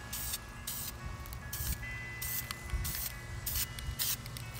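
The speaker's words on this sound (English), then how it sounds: "I'm just doing a rattle can job." A rattle can sprays paint onto a Mazda Miata in short hissing bursts of about a second each, repeated several times with brief gaps, close up over a low background rumble.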